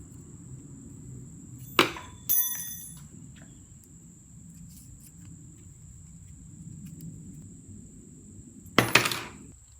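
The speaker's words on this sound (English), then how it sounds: "Just pop these balls out." Traxxas pivot balls popping out of plastic RC car rod ends for an E-Revo, a few sharp clicking snaps spaced apart amid quiet room hum and a steady high whine.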